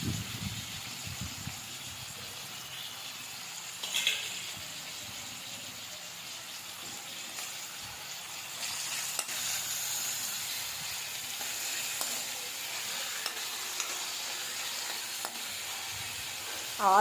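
Garlic and broad beans frying in a pan for a chikkudikaya fry, giving a steady low sizzle throughout with a few brief stirring bumps, close by and fairly quiet, with no talk.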